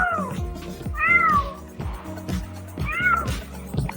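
A domestic cat meows three distinct times, drawn-out and rising, close and fairly loud, with softer vocal sounds in between and no talking.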